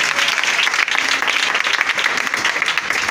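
A church congregation applauding in praise, a dense, steady wash of clapping from many hands filling the room, with a faint voice underneath.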